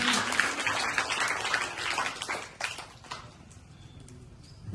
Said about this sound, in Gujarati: જોરદાર તાળીઓ પાસવા માટે થઈ જાય